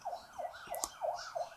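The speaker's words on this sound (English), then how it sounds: "Man, that's the ambulance." An ambulance siren passes nearby, wailing in about five quick, regular rising-and-falling cycles, loud and steady, with a couple of sharp clicks partway through.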